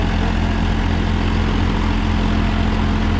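A Powertrac Euro 50 tractor, 50 HP, drives a month-old rotavator, its engine holding a steady, heavy low drone close by and running unbroken throughout, with no voices.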